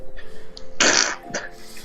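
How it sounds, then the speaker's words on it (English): A short, sharp sniffling burst, breathy and close, from a character in the visual novel game Nekopara Vol. 1, followed by a smaller sniff, over a faint background hum. "Oh, it's terrible sniffing noise."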